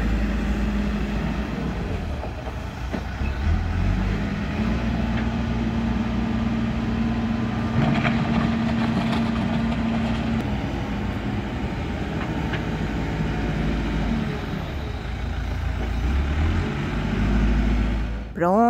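A tractor scraping and levelling ground for planting runs nearby, a steady low engine rumble with a droning tone that holds throughout, with some talking over it.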